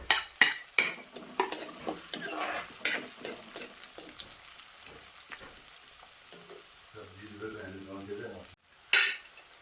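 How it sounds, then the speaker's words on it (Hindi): Chopped onions fry in a pan for a spiced cucumber curry, with repeated clinking spoon strokes against the metal over a steady sizzle, then a quieter stretch and one loud knock near the end. "प्याज डालें"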